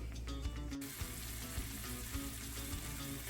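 A couple tablespoons of butter frying in a pan for an apple caramel, a steady close crackling sizzle with a few soft clicks and taps, no voices.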